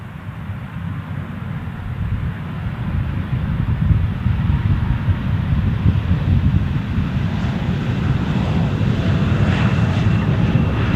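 A small aircraft at Amsterdam Schiphol Airport gives a steady low engine rumble and roar that holds through the whole stretch, with wind buffeting the microphone and no talking.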